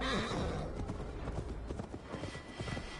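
Horse hooves galloping in Assassin's Creed Valhalla through a Gloucestershire forest, a steady rapid clip-clop under a dense wash of game ambience and music, fairly loud and continuous.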